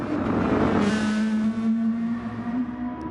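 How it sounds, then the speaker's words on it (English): Loud race car engine from a Gr2 racing video game holds a steady, droning tone throughout, rising slightly in pitch partway through, with no pauses. "As I realised Wizard's engine was super loud there"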